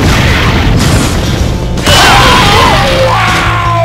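Loud booming bomb explosions in the action video game God Hand, a dense, continuous roar of blasts that briefly drops out before surging again, with game effects and a rising tonal whine layered on top.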